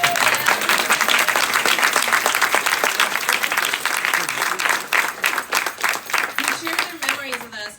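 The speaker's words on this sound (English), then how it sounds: "Please, big round of applause." A crowd applauds steadily for a family being honoured at a public event on San Juan Hill, loud sustained clapping that thins into scattered claps near the end, with voices murmuring underneath.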